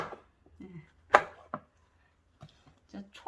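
A knife cuts radish on a cutting board during home cooking, giving a few separate chops with gaps between them, fairly close and moderately loud, with no one talking.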